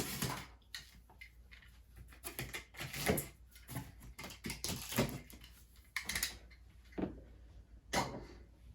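Tape or a seal being torn and picked at on a large Alienware 25 240Hz monitor box, heard as a sequence of close, crisp crackling and tapping bursts with an irregular rhythm, and no talking.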